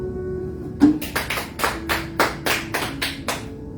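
A church congregation claps in a short, steady series of about ten sharp handclaps, fairly close and clear, with no talking over it.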